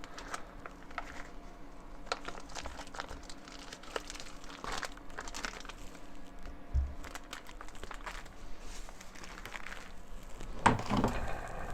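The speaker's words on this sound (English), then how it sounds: "And before I start, I'm going to grab some paper towel." Paper towel is grabbed and crinkled in a home kitchen, a soft rustling and crumpling that runs quietly throughout, with a louder crackling burst near the end.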